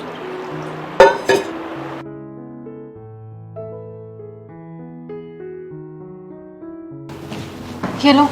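Water is poured into a glass, with a sharp clink of glass early on and a short splashing pour near the end, separated by soft background music.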